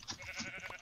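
Sheep bleating in the Minecraft video game, a short cluster of overlapping nasal bleats from several animals in a crowded flock, fairly loud and without any talk over them.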